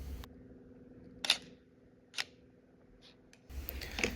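A camera shutter clicks open and then closes about four seconds later during a long exposure in a dark room, giving a sharp snap, a few faint ticks in between, and a second closing click.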